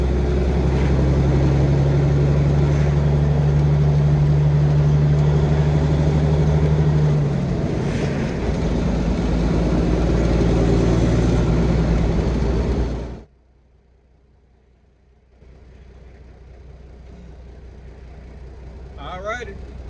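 A straight-piped Caterpillar B model diesel truck engine pulling onto a highway, a loud steady drone with a rising tone that cuts out sharply near the end, leaving a faint quieter rumble.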